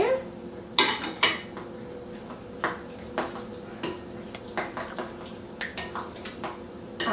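Carrots and mushrooms being tossed and mixed in a pot or bowl for a smoked rabbit pie, heard as a series of short clinking, scraping knocks of utensil against cookware at an irregular pace, fairly quiet and close.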